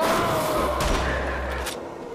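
Gunfire from a shotgun in Wolfenstein: The Old Blood, a couple of loud blasts with a low booming tail amid busy game noise, close and brief.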